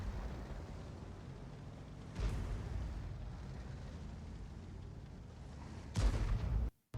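Artillery shell fire in World of Tanks: a deep boom at about two seconds, a sustained rumble, then a second heavy blast near the end before the sound cuts off abruptly.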